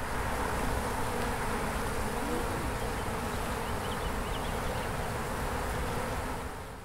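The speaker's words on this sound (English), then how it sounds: "It's a collection of beehives." Honeybees buzzing densely around a collection of beehives in an apiary, a continuous close swarm drone at moderate level throughout, fading slightly at the end, with no voices.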